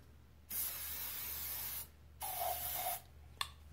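Cleaner sprayed onto reloading equipment in three bursts: two long hissing sprays, then a shorter one, with a faint tap near the end. Close and fairly loud, with no talk.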